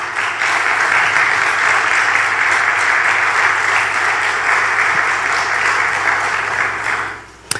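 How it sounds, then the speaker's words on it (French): A church congregation applauds in a sustained, dense wave of clapping that holds steady and then fades out at the end, loud and filling the room. "Applaudissez encore le Seigneur."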